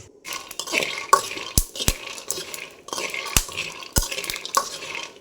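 Peanuts being stirred as they roast in a pan over a low flame, with soft scraping and rustling strokes, several sharp clinks of the spoon against the pan, and nobody speaking.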